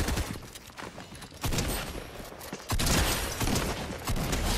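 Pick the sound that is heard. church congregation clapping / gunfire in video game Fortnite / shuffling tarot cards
gunfire in video game Fortnite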